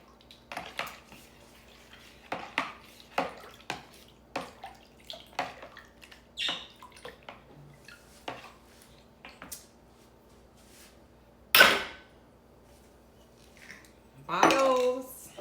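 Ingredients for a turmeric ginger wellness shot with black pepper being stirred in a container, giving a run of short, distinct clinks and taps at a steady rhythm, then a louder clatter and a brief swish near the end.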